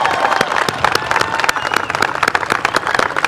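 Audience applause for retiring teachers at a high school graduation ceremony, dense steady clapping from a large crowd that carries through the whole moment, close and loud.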